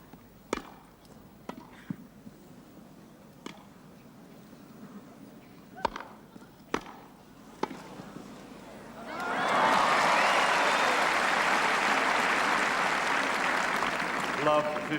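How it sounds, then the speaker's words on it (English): Ball strikes in a 1977 Wimbledon semi-final grass-court tennis rally sound as sharp, spaced pops, then the crowd bursts into loud, sustained applause that fills the last five seconds. "that applause tells its own story of the epic quality of this match"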